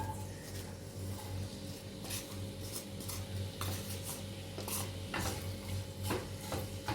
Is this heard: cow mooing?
no